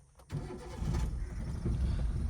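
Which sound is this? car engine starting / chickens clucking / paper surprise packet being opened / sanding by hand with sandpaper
car engine starting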